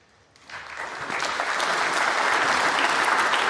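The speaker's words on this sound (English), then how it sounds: "nice appreciation from the crowd" Applause from a snooker crowd at the British Open rises quickly from a quiet hall into sustained, dense clapping that holds steady to the end.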